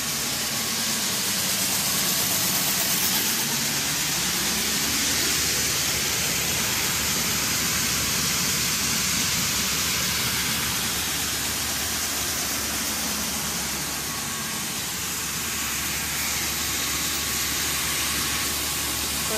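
An 8-inch swing hopper auger unloading corn into a 10,000-bushel grain bin, heard as a loud, steady mechanical roar with a rushing, hissing grain flow that holds throughout with no talking.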